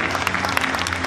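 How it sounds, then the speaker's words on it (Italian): Brief burst of audience applause at a rally show in Monza, a crowd clapping steadily at moderate volume for about a second. "Complimenti e ricevono l'applauso del pubblico."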